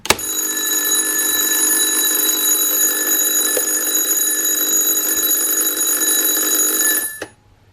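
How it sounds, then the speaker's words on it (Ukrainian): An electric bell on a generator switchover panel rings loud and continuous for about seven seconds, a steady metallic jangle with no pauses, then stops abruptly. No one speaks. "у нас працював дзвінок"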